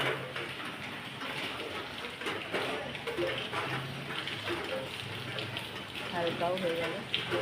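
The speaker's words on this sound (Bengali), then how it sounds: "বাইরে ঝমঝমিয়ে বৃষ্টি শুরু হয়েছে।" Heavy rain pours outside, a continuous broadband hiss and patter that swells slightly near the end, with indistinct voices underneath.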